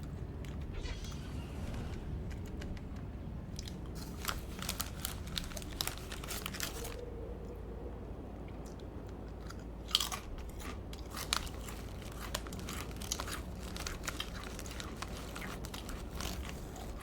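Close, crisp biting and crunching with chewing and crinkling, in loud bursts separated by quieter stretches, with no talk.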